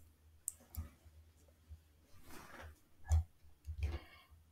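Computer mouse clicks while deploying a Spring Boot application to Tomcat, a handful of quiet, sharp clicks spaced irregularly over a few seconds, close and alone without speech.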